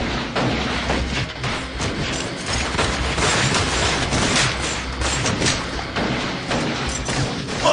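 Gunfire in an audio drama, a dense continuous volley of shots and thuds lasting several seconds, loud and close with no talk over it.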